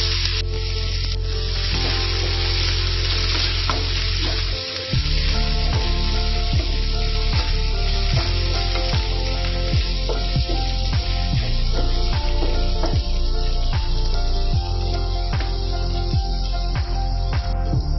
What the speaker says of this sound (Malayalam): ഇനി നമുക്ക് ഈ സവാള ഇതിലേക്ക് ഇട്ട് കൊടുക്കാം.